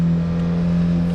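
A truck engine with a loose electrical connection revving up on its own, a steady loud drone with a strong low hum held evenly throughout, no voices over it.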